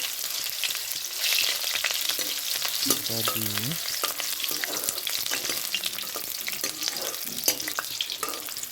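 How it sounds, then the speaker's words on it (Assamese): Onions sizzle and crackle steadily in a pan of hot oil while a spatula stirs them, partway through cooking an eggplant and dried fish dish; a voice briefly speaks over the frying. "পিঁয়াজখিনি অলপমান ভাজি কিনে ধুনীয়াকৈ কালাৰটো আনিছোঁ।"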